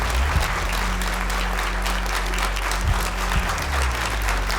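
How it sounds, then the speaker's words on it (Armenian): Audience at the Got Talent Armenia gala show breaks into sustained applause, a dense wash of clapping that holds steady with a few louder claps poking through, with faint voices beneath. "եկեք ծափարենք"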